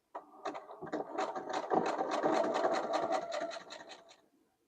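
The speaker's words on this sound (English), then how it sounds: "Then I'm going to lift the presser foot and pivot the piece. And then sew down the next side." A sewing machine zigzag-stitches around the outer corner of an appliquéd quilt letter, its rapid mechanical needle chatter running steadily for several seconds, close and fairly quiet, with no talking.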